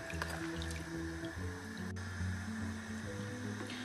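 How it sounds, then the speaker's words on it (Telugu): Soaked rice being poured into a pot of simmering veg dum biryani, a continuous wet, squelchy slosh with bubbling and dripping, fairly close and steady throughout. "ఇలా రైస్ అంతా యాడ్ చేసేసుకోవాలి."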